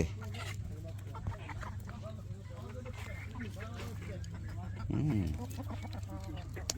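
Ducks and chickens on Dublar Char island in the Sundarbans give faint, scattered clucks and a brief quack-like call, quiet against a low background hum with some voices nearby.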